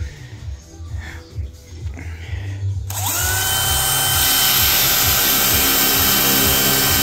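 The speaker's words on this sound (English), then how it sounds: "then a locking clamp, and then just drill away" A power drill whines loudly and steadily, boring a depth-set hinge hole in a wardrobe door held in a clamped jig, after some quieter handling noises.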